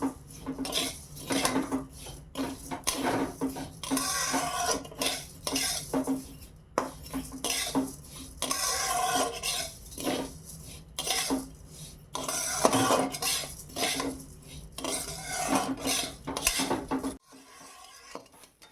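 Vermicelli frying in ghee is stirred in a pan, with a steady run of metal scraping and clinking of the spoon against the pan, close and busy, with no talking.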